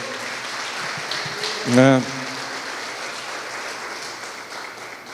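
A church congregation applauds during a conference service, a steady soft wash of clapping filling the room while a voice briefly speaks over it partway through.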